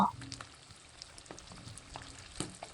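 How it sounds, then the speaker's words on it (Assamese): Ginger garlic paste fries softly in a pan, a low steady sizzle with occasional crackles and light stirring scrapes, fairly quiet throughout. "তেতিয়ালৈকে আমি এইটো লৰাই দিম, ভাজি দিম"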